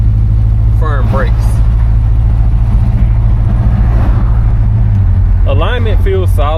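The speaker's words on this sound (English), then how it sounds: "Motor sounds good, honestly." A 1970 Buick LeSabre engine hums steadily beneath the cabin noise while driving, with someone talking briefly near the start and again toward the end.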